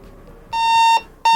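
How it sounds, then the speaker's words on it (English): A loud electronic speed alarm from an Apple Watch running the DarknessBot app, set at 60 km/h while riding an Inmotion V13 electric unicycle, sounds as two sharp tonal beeps: a half-second tone, a brief gap, then a second beginning. "I've got my first alarm set at 60 kilometers per hour"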